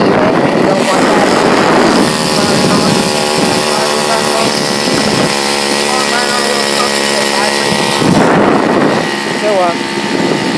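A bicycle driven by a small weedwacker engine buzzes steadily at high revs, with the pitch rising and falling as the load changes. The engine is loud and close, and wind noise runs underneath.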